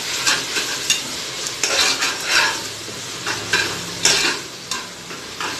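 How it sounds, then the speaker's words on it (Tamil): Spoon stirring chicken biryani masala with chili powder in a pot, a series of scraping, sizzling strokes repeating steadily and close up, with no voices. "ஒரு வாட்டி கலந்து விட்டுட்டு"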